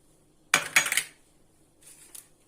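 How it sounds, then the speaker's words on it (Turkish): A utensil scraping and clinking against a pot while strawberry cheesecake filling with starch is stirred: two quick bursts of metallic scraping, then a softer, fainter round of clinks after a short pause. "Karıştırıyorum. Güzelce karıştıracağız."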